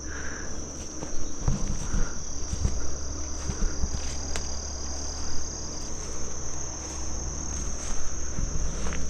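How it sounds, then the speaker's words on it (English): Crickets and other insects chirp continuously at night beside the Tug Fork River in Kentucky, a steady high-pitched trill with scattered rustles and low rumble beneath, nearby and moderately loud. "Bugs are out in force already, I can tell you that."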